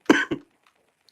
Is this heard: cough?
yes